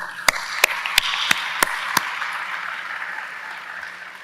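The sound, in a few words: applause at graduation ceremony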